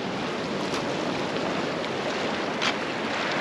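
Ocean surf at Abalone Cove on the rocky Palos Verdes coast, a constant broad wash of waves mixed with wind noise, steady and fairly loud with no speech.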